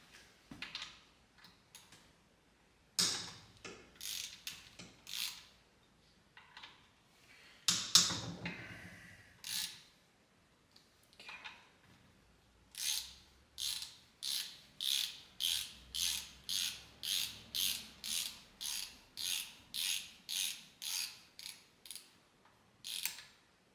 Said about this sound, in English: First, we are going to remove these two nuts that hold the spring, 13mm socket.